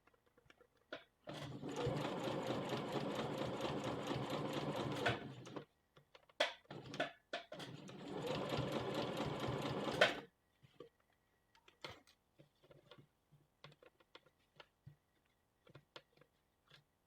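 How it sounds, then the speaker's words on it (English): A sewing machine stitches a bishop sleeve into a garment in two steady bursts of about four seconds each, separated by a short pause, followed by faint clicks and handling noises. "what I'm going to do now is I'm going to sew it in"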